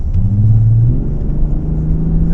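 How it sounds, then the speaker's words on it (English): A 2019 Toyota Avalon Touring spins its tires while pulling away in a high gear, giving a loud, steady low engine rumble with a rising whine that holds throughout, heard from inside the car. "Oh, I can spin the tires in 8th gear."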